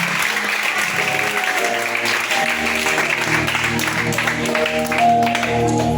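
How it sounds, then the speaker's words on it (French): Steady audience clapping at a prayer and honour-certificate ceremony, continuous and fairly loud over sustained background music tones. "On applaudit pour elle"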